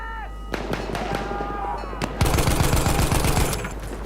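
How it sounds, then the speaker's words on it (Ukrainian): Rapid bursts of gunfire in the video game Battlefield 1, scattered single shots first, then a dense volley of automatic fire, loud and close. "походу якийсь десь снайп валить"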